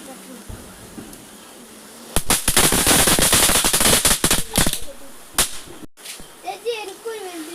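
Firecrackers crackle in a dense, rapid string of loud bangs on Vishu night in Kerala, the burst starting abruptly after a quiet lead-in and tapering into a few scattered pops, with voices faintly around.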